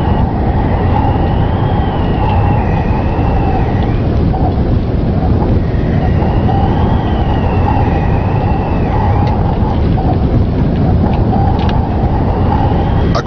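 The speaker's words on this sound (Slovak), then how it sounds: "Strhla sa povestná biela búrka, najväčší postrach tejto hory." A fierce white storm on a mountain roars without a break: a loud, dense wash of wind-driven noise with faint whistling tones above it and no voices.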